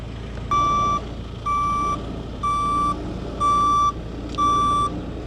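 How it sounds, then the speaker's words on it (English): Reversing beeper on a truck working at a fenland ditch site, five steady evenly spaced electronic beeps, loud and close over a low engine hum. "Reversing beepers are really,"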